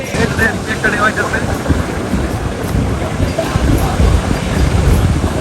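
Sea waves at Kolatoli beach in Cox's Bazar roar close by, a loud continuous surf wash with heavy wind buffeting the microphone throughout.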